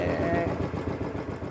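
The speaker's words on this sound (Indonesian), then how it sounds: "Nona, ini orang berhenti bentar ya beta cek motornya dulu ya" A motorcycle engine idles after pulling to a stop, a low, steady, rumbling putter under voices talking nearby.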